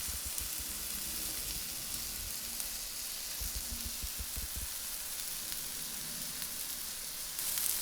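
Tenderloin burger patties sizzle and crackle steadily in a hot pan, a continuous frying hiss with low popping throughout, close by and moderately loud, with no voices.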